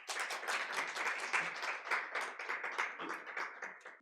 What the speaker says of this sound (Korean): 대표님을 큰 박수로 환영해 주시기 바랍니다